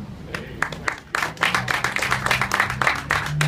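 A film festival audience bursts into applause, sharp hand claps picking up and thickening into a lively, sustained ovation close by.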